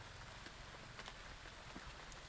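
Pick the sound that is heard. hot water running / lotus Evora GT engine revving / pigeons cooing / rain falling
rain falling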